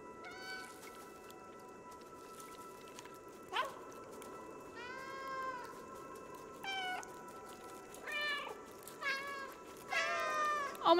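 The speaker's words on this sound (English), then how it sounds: "That's a lot of different kinds of meows." Cat meows of many different kinds from the video game Stray, a string of separate calls with varied pitch and length, some short chirps and some long drawn meows, fairly close and clear over a quiet background.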